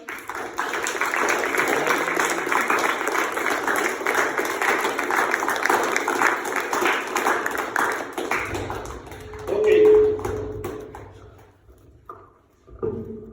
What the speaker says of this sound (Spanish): daremos un fuerte aplauso a los ponentes